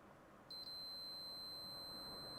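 A multimeter in continuity mode gives a steady high-pitched beep that starts abruptly and holds for about two seconds while probing an Intel 386SX-era motherboard, heard alone and fairly faint.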